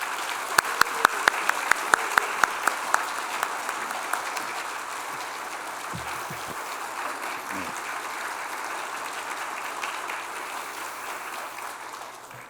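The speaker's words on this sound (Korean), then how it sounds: "우리 강사님 박수로 환영하겠습니다." An audience claps in welcome for a guest speaker at a church revival meeting, opening with a few sharp separate claps before swelling into sustained, dense applause that carries on to the end.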